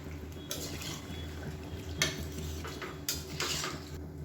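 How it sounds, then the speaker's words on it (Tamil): Water is added to a chicken and potato gravy and stirred in. A spoon scrapes and clinks against the pot a few times over quiet bubbling and liquid sloshing. "கலந்து விட்டுட்டு இன்னும் கொஞ்சம் தண்ணி சேர்த்துக்கலாம்."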